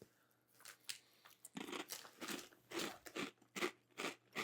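Close, loud crunching and chewing of Canadian Takis rolled tortilla chips, a run of sharp, brittle crunches in an uneven rhythm with no talking.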